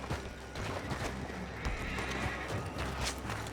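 Horses neighing and hooves clip-clopping beside a coach in the Western video game Red Dead Redemption 2, a steady, moderately loud scene with whinnies rising over the hoofbeats.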